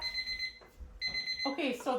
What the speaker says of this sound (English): timer's gone off for an hour